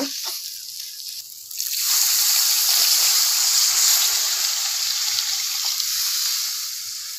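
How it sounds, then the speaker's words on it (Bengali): Water poured into simmering potato curry in a pan for egg curry, a steady hissing, splashing rush that builds after a quieter start and runs continuously, close and without talk. "তো এখন এর মধ্যে জল দিয়ে দিব"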